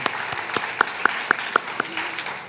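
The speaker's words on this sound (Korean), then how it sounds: "함께 하나님께 영광의 박수 올려드리겠습니다" A church youth group applauding together, with dense group clapping and a few sharper individual claps standing out in a regular rhythm.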